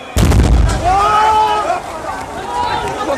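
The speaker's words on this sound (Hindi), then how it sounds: "ये धमाका शायद ही खंडवा वाले कभी भूलें" A blast explosion at Ghaspur in Khandwa: one sudden, loud, booming burst, followed by people shouting and calling out in the aftermath.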